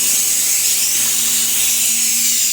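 Metal tubes for a boiler grate are cut in a workshop with a steady, loud, high hissing whine and a faint hum beneath, continuous throughout.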